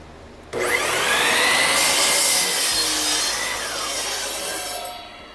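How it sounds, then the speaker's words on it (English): A power saw cuts through pallet wood boards, a loud steady whining buzz that starts abruptly, holds for several seconds with a shifting pitch as the blade bites, then winds down. "I'm just going to go ahead and cut these boards"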